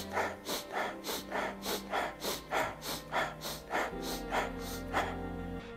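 Rhythmic breathing: about a dozen short, sharp inhales through the nose, evenly spaced, close and clear, with a low steady hum underneath.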